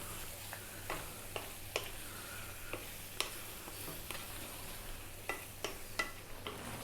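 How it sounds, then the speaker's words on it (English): Tomatoes and beef cooking down over high heat for a beef eggplant curry, giving a quiet, steady sizzle broken by scattered sharp taps and clicks of a spoon against the pan. "Stay on this high heat for 5 minutes now. We want to cook those tomatoes down"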